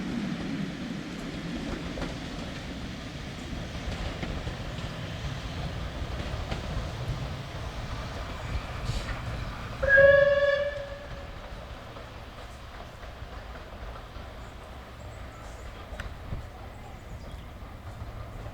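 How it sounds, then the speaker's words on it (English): Bluebell Railway steam locomotive 34059 Sir Archibald Sinclair running down toward Sharpthorne Tunnel, a faint, steady rolling rumble of the train with a brief sharp whistle near the middle. "34059, named after the wartime Secretary of State for Air, Sir Archibald Sinclair, is seen running down to Sharpthorne Tunnel"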